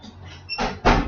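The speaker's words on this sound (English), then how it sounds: "Close the door for Dada." Door pushed shut indoors, a soft sliding rumble followed by two dull thuds close together, ending with the louder closing knock.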